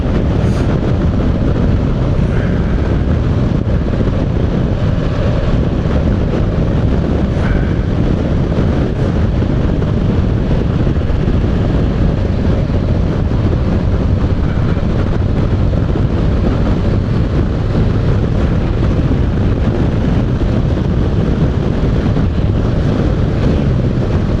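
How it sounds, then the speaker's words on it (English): Steady, roaring wind buffeting the microphone while riding a Honda NC750X DCT motorcycle, a constant loud rush at speed, with no talking. "It shows it's windy."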